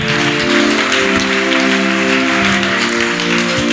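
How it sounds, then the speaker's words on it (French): Dense crowd applause, a continuous wash of clapping, with musical tones sounding underneath the whole time. "Qu'il monte vos applaudissements, s'il vous plaît"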